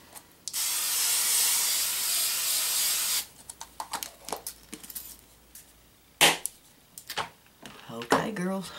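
A can of Tresemme hairspray gives one steady close hiss lasting about three seconds, followed by scattered small knocks and rubbing sounds.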